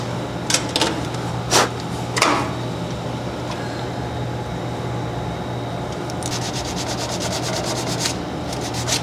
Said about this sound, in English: use one side of the sandpaper for the wood and the other side for the aluminum so they don't cross contaminate